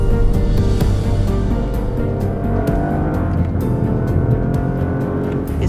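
A Lexus car drives with a loud, continuous engine drone and road noise throughout, steady with slight surges and no voices.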